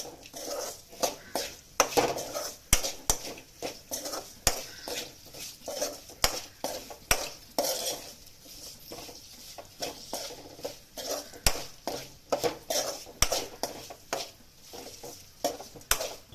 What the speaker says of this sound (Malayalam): ഇതിന്റെ പച്ച മണം പോകുന്നത് വരെ നമുക്കൊന്ന് ഇളക്കിയിട്ട് കൊടുക്കാം